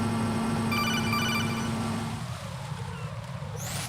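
A Metal Gear Solid 2 codec call rings in a repeating electronic beep pattern, fairly quiet over a steady low background hum.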